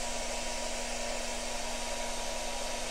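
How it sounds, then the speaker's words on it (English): Steady, loud whooshing of a hair dryer blowing continuously, with a constant motor hum and no pauses. "That's the hairdryer"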